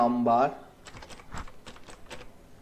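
Numbers are typed on a computer keyboard: a brief voice opens, then a quick series of about eight crisp, close key clicks in uneven rhythm, fairly faint against a quiet room.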